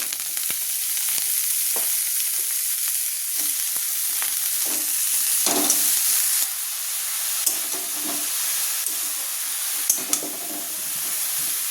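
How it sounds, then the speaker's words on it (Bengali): Pumpkin greens stirred in a pan with fried garlic and a little spice, a steady sizzling hiss broken by scraping stirs and soft clacks of the spatula, close and continuous with no talking. "এবার শাকটা একটু ভালো করে নাড়াচাড়া করে নেব, মানে যে মশলাগুলো ভাজলাম শাকের সঙ্গে মিক্স করে দেবো"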